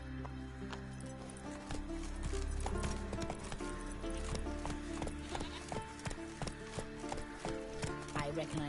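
Horse hooves clip-clop steadily on the ground while riding in The Witcher video game, a close rhythmic clatter of repeated hoofbeats layered with game sound and occasional voices.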